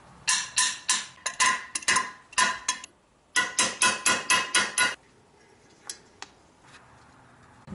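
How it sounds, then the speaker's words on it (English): Metal hammer blows drive a part into a Wheel Horse garden tractor engine during assembly: two quick bursts of sharp, ringing strikes, about seven each, close and loud, then a couple of faint taps and quiet. "I'm gonna try to hammer that in there."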